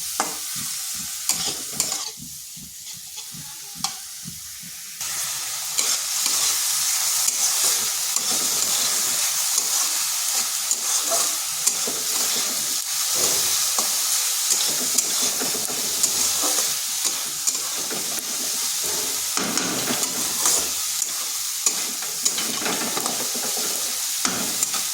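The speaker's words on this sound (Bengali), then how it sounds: "ডালটাকে একটু এইভাবে নেড়ে চেড়ে নিচ্ছি।" Masoor dal with ginger and garlic is stirred in a hot pan, starting with a few clatters of the spoon before a steady, close sizzle sets in, punctuated by repeated scraping stir strokes.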